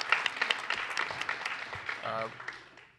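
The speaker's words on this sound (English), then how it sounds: "Let's give them a big round of applause." At a university venture challenge event, an audience gives a short round of applause, scattered claps fairly faint and fading out, with voices murmuring through it.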